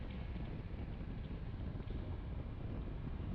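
Steady, loud wind buffets and roars across the microphone while riding a Triumph Tiger 1200 Rally Explorer motorcycle at speed, a constant broadband rush with no breaks.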